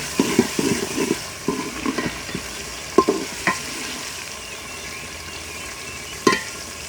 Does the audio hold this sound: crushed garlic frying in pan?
yes